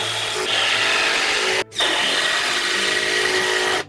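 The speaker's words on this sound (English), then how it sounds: "I'm using 150mm screws to go into the rafters" A power driver sends 150mm timber screws into roof rafters to secure fascia, giving two long, loud whirring runs close by with a brief pause between them; no voices.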